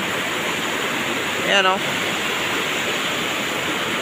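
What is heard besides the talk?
rushing swollen river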